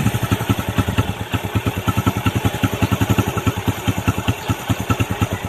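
A Bajaj CT 100 motorcycle engine idles steadily up close, its single-cylinder exhaust thumping in a fast, even pulse with light mechanical clatter, no voices over it.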